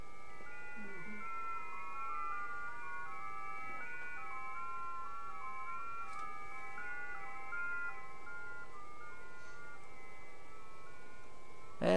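Decoded ham radio digital text signals play through an ICOM radio as a steady run of shifting, stepped electronic tones, sounding almost musical, with no one talking over them.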